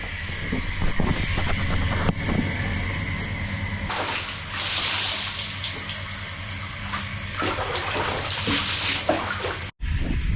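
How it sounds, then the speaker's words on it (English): Shower water runs steadily in a hissing spray, with a brief clatter partway through and a sudden cutoff near the end. "you get naked and you take a shower"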